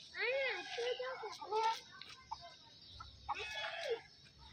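A hen and chicks cluck in short, close bursts with chirpy calls, then fall quiet before another run of clucking near the end.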